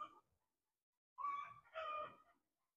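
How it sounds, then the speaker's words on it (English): Chickens are heard at a moderate distance: a short cluck at the start, a pause, then a rooster's full crow in two drawn-out phrases that fade into quiet. "These chickens are driving me insane"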